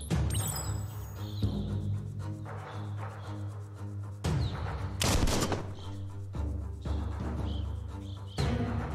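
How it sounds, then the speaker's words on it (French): Rapid bursts of gunfire from a newly acquired gun in the video game Biomutant crack out repeatedly, loud and close, over a steady low game backdrop. "C'est le nouveau flingue que j'ai,"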